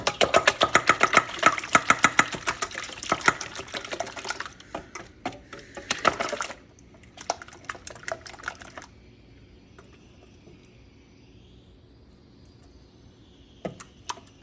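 Eggs beaten by hand with a normal-sized whisk in a home kitchen, a rapid run of close, loud clicking strokes for several seconds before stopping, followed by quieter handling sounds.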